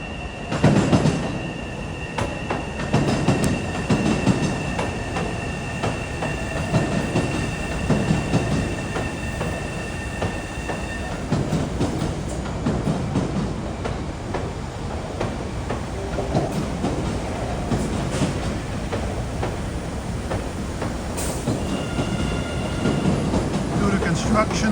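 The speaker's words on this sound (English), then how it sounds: "Here come the new CRRC Red Line cars." New CRRC-built Red Line subway cars on Boston's MBTA pull into a station, a sustained close rumble of wheels and motors with clicking rail joints and brief squeals throughout, no speech.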